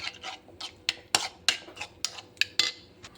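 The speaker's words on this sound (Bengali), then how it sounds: "এটা ভালো করে আমি ফেটে নেব।" Black pepper being whisked into a mixture in a bowl, a run of sharp clinking metal-on-bowl strikes in an uneven, brisk rhythm, close and clear with nothing else around.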